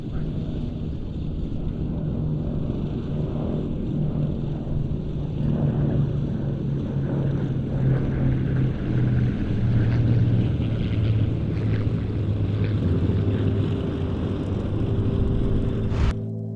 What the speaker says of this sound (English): It flies here with another photo reconnaissance aircraft, a Spitfire PR-11